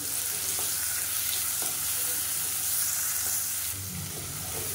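Onions and tomatoes sauté in hot oil with rock salt, giving a continuous close sizzle and soft stirring scrapes with no talking.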